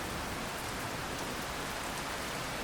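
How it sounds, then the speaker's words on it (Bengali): Steady, dense rain pours down at a resort near Kolkata beside a swimming pool, a continuous even hiss with no distinct thunder rumble and no voices. "খুব সুন্দর বিদ্যুৎ চমকাচ্ছে, মেঘ গজরাচ্ছে আর সাথে বৃষ্টি।"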